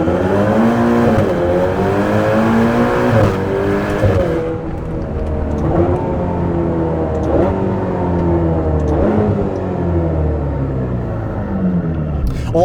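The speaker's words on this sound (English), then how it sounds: "let's do a 0 to 60 test here, even though we are a little bit uphill, and see what we get" A Ferrari Portofino on all-season tires launches uphill from a standstill toward 60 mph, tires spinning. The engine roars loudly and climbs through several upshifts in a rising, stepped sweep, heard close from inside the car.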